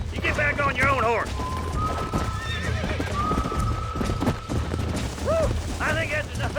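In the Red Dead Redemption video game, horse hooves clip-clop in a steady rhythm alongside loud neighs and whinnies, with speech over the top and music playing beneath.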